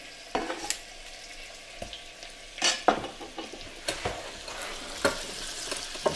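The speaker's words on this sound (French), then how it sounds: "On commence à faire revenir ces éléments sans coloration." Onions, leek white and a crushed unpeeled garlic clove sweat gently in a pan for homemade boudin blanc, a soft steady sizzle broken by intermittent scraping stirs of a utensil against the pan.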